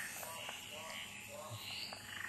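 A small frog gives faint, repeated short croaks under steady insect or ambient background noise, with no talking.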